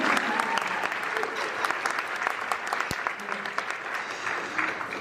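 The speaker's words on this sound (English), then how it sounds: "We're gonna go ahead and give them applause." Sustained applause from a seated audience at a university nursing convocation ceremony, dense steady clapping filling the hall with a few sharper claps standing out.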